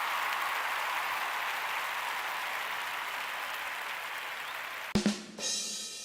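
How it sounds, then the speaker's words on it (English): A recorded applause effect plays during a football gaming livestream, a steady, dense hiss of clapping that runs evenly for about five seconds before cutting off abruptly into a brief, different noise. "Let me give him the clap quickly."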